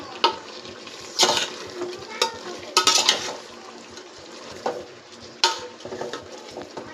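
A spoon stirs chicken biryani masala with tomatoes, mint and coriander in a pot, giving soft sizzling under scattered scraping knocks against the metal, several sharper clanks standing out.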